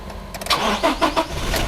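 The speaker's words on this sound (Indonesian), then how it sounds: "setelah itu kita hidupkan kendaraan" A car engine is started during periodic maintenance: the starter cranks in a few quick bursts before the engine catches and settles into a close, steady idle.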